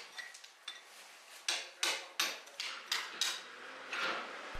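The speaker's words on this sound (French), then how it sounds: "nous devons encore retirer les pierres avec un marteau et un burin" A hammer drives a chisel to knock stones out of a wall during home construction work: a series of about nine sharp, ringing metallic strikes at uneven intervals, close by, with no talk.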